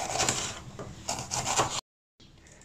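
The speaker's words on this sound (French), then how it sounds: "Je découpe le poivron en rondelles." A knife slices a bell pepper into rings on a board, a series of close, crisp rasping cuts, a brief silence, then softer handling.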